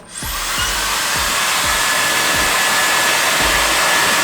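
A Bodyland 1500 W hair dryer switches on and runs on its highest setting, a loud, steady close-up roar of rushing air with a faint rhythmic low thumping underneath.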